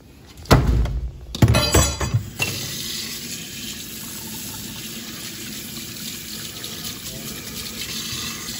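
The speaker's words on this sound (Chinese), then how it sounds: "咱们清水洗净。" Blanched pork belly is rinsed in a kitchen sink, starting with a few loud knocks and splashes, then a steady stream of running tap water that carries on to the end.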